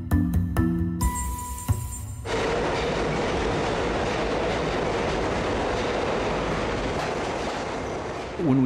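New York City subway trains pull out of a station: after a brief burst of other sounds, a loud, continuous rumble of wheels on rails with faint clatter rolls on steadily, with no one talking.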